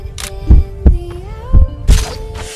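A loud, close heartbeat thumps in slow double beats, four strong pulses over a low hum and tonal drone, inside the PUBG game.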